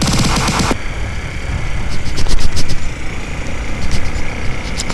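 Honda Tornado XR250 motorcycle ridden off-road on dirt, its engine roaring steadily and close with rising and falling revs, a sharp burst at the start, no talking.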